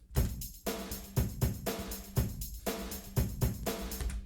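Programmed drum pattern whose hi-hat swells louder and then softer in cycles, riding over a repeating kick and snare groove that thumps steadily and cleanly, with no voices.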